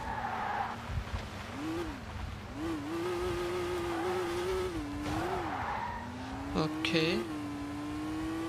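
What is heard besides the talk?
rally car drifting, tires skidding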